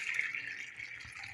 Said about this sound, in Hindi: इसके अंदर मैं गर्म पानी डाल के रखूँगी